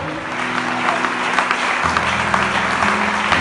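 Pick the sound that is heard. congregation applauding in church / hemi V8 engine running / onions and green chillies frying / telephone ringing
congregation applauding in church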